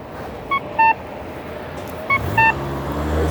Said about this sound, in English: I know that is the most annoying chirping